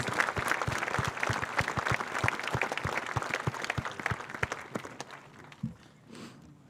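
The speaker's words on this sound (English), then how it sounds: "Give them a round of applause." Sustained applause from a large crowd at a high school commencement ceremony, dense clapping that stays loud for several seconds and then thins out and fades near the end.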